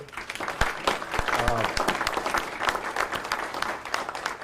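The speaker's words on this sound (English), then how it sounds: "let's give them a round of applause" Audience applause for elected officials at an Iowa legislative forum: steady clapping from a modest crowd that holds through the whole stretch, with a voice briefly audible underneath.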